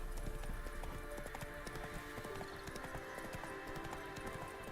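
Hooves of a horse clip-clop in a steady galloping rhythm inside a video game, moderately quiet beneath faint ambient game sound.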